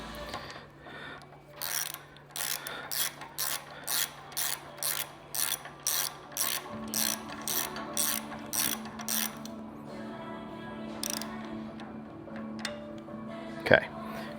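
Ratchet tightening a bolt while installing TBM brakes on a twin turbo S10, a series of about fifteen evenly spaced clicking pulls, close and crisp, with a person talking quietly underneath.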